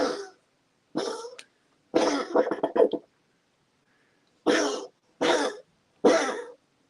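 A dog in a coughing fit, delivering a string of harsh, hacking coughs in separate bursts with short pauses between them, close up and loud against an otherwise quiet room.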